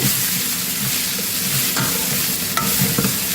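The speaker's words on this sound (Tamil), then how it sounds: "வெங்காயம் அதுவே வதங்கட்டும் எண்ணெயிலே வதங்கிறத தவிர பாட்டி உப்பு போட்டு வதக்கலை" Onions sautéing in oil in a pan for a prawn thokku and fish curry, a steady close sizzle and frying crackle running throughout, with occasional soft stirring scrapes and no voices.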